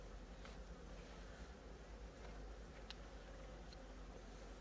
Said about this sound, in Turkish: Bir dakika arılar vuruyor.